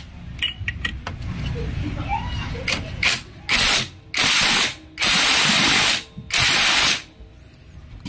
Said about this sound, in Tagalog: Tapos 22mm na socket ang panghigpit.